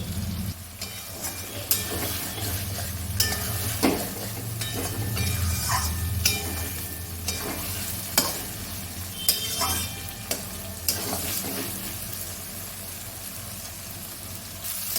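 Bombil fish fries in a pan as its liquid cooks off into the oil, a continuous close sizzle punctuated by repeated scraping and clinking strokes of stirring throughout.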